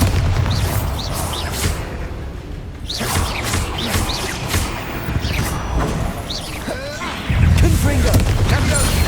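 Bombarda explosion spells in the video game Hogwarts Legacy, a series of sharp booming blasts and crashes with ringing debris, several impacts spread across the stretch over continuous rumbling game noise.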